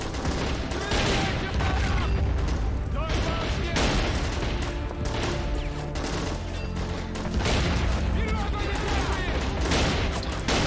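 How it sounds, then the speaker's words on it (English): Turret guns mounted on compound walls fire in a battle in Army Men of War, sustained loud bursts of gunfire layered with crashes and booms, constant and busy throughout. "These things have turrets on them, you see. Shooting from the wall as well."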